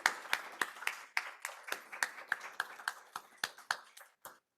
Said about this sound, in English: let's give all of our presenters a final round of applause